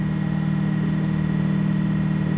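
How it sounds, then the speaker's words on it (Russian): A boat's motor running steadily throughout, a continuous low droning hum with a faint rhythmic knock, close and loud, no voices. "И мотор стучит."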